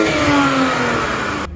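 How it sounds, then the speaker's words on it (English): BMW E36 car with a stock exhaust, engine revving steadily under throttle, close and loud, with no raspy exhaust note, cutting off abruptly near the end. "you only hear engine noise."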